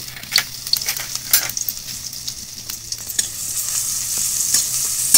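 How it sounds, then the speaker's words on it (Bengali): Crushed garlic and whole cumin seeds fry in a pan, a steady bright crackling sizzle with repeated stirring scrapes and small spatters, close and fairly loud, with no voices. "এটা একটু ভাজা করে নিচ্ছি।"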